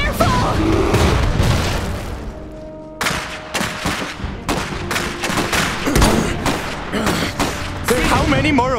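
Gunfire and explosions in the strategy game Iron Harvest crack and boom in irregular bursts, loud and close, mixed with booming blasts and short spoken voice lines over the battle.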